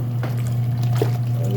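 Water trickles and dribbles out of a twin tub washing machine onto the floor, faint splashy drips sitting beneath a steady, loud motor hum.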